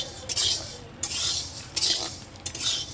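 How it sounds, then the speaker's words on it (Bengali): Rice grains dry-fried in a pan over high heat crackle and skitter, in four rhythmic scraping, sizzling bursts as the grains are stirred and jump against the metal. "চালটা তো ফুটবে চুরচুর করে"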